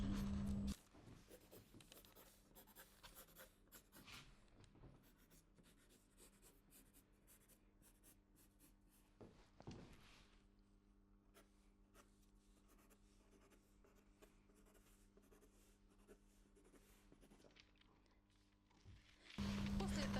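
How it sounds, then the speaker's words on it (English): Pencil drawing a dress bodice pattern on tracing paper, a steady scratchy scraping of strokes running almost the entire time, close and fairly quiet, with a faint hum underneath. "Put a tracing paper here and draw a pattern for us to continue working."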